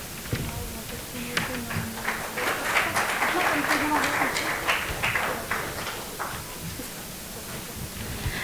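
Audience applause at a conference session on seed research and technology: steady, dense clapping fills the hall throughout while an announcer speaks over it.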